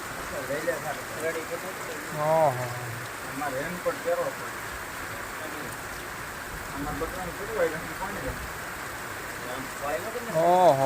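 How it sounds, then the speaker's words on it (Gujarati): Heavy morning downpour drums steadily on surfaces outdoors, a continuous wash of rain throughout, with men chatting over it. "આ તો સોતડા વરસાદ"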